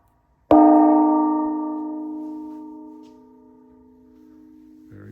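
A decorative gong at a modern design auction struck once with its own mallet, a sharp attack blooming into a loud, sustained shimmering tone that slowly fades over several seconds before a faint rustle at the end.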